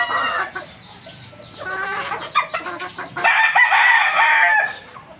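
Gamefowl roosters crow in a breeding pen at a game farm, several loud, overlapping calls close by with clucking between them.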